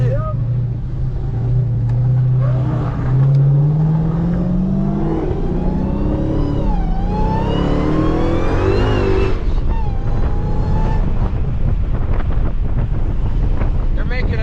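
Lamborghini Aventador supercar accelerating on the road, heard from a following car: a rising, roaring engine note sweeping upward under heavy wind noise and cabin rumble, with excited talking over it.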